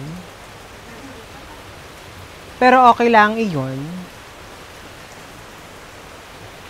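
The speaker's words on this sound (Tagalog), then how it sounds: "At bumagsak na nga ang ulan." Steady rain hissing in the background throughout, with a person speaking briefly over it partway through.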